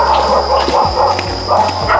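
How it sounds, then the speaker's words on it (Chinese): A mother dog with a litter of three puppies at a rural home gives short yips and barks over a steady background hum, close by, within a couple of seconds. "我家那个母狗，就它生了三个小狗"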